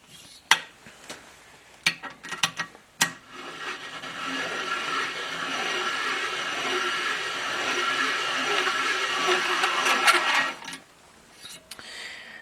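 Valve seat cutter grinding the valve seats of a Willys L-head engine, a steady scraping metallic whirr lasting several seconds, preceded and followed by sharp tool clicks and clanks, close and moderately loud.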